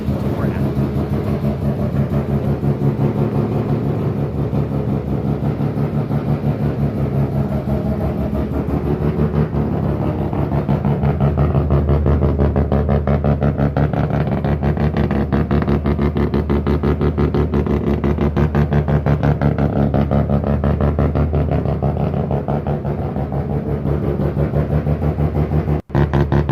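Half-bridge-ported rotary engine in a Mazda RX7 FD3S idling with a loud, choppy brap, a steady lumpy burble that holds close and continuous for the whole stretch, with no talk over it.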